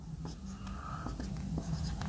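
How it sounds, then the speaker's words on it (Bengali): Equations written by hand during a mechanics lesson, with soft scratchy pen strokes in short irregular bursts, close and fairly faint under a low background hum. "আবার দেখে দেখে লিখব"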